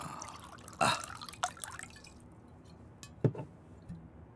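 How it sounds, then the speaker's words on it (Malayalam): Drinks being poured into glasses at a hotel room table: a few short liquid splashes and clinks, faint and intermittent, with no talk over them. "ഓരോന്ന് ഒഴിക്കട്ടെ."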